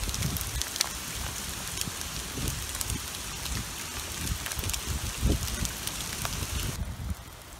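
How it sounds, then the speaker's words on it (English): Rain falls in Red Rock Canyon during a warm storm, a steady hiss of drops hitting rock and ground with occasional louder splatters and gusts, fading slightly at the end. "In a rainstorm in Red Rock Canyon."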